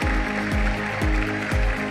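An audience at a pitch night stomps feet and claps together in a steady rhythm, about four heavy low thumps roughly half a second apart with clapping layered over them, fairly loud and close.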